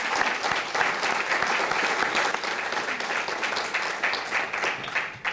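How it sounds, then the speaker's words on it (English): Crowd at the FATV Boulder award ceremony gives a warm round of applause for the organization, a thick, continuous clapping from many hands that swells and eases slightly before tapering at the close. "round of applause to FATV and all the incredible work they do."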